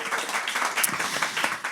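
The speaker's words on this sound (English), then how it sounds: "So a round of applause." A live audience at an evening event applauds its sponsors with a round of clapping. The sound is a dense, steady patter of many hands that holds for the whole short stretch, with a bright whoop standing out near the middle.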